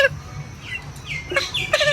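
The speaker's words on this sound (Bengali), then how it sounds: "মোরগ, দুটোই মোরগ।" Native roosters cluck in short, repeated calls at close range, with several sharp rising squawks toward the end over a low background hum.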